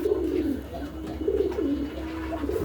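Newly bought pigeons kept in a loft coo in repeated low, rolling phrases. The coos are close and clear over a steady background hum.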